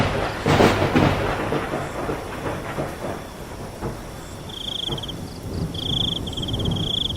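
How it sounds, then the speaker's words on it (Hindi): Heavy rain pours steadily on a stormy dark night, with deep rumbling thunder rolling in the first seconds and a faint high electronic tone beeping later. "बाहर तेज तेज बारिश और बिजली कड़क रही होती है।"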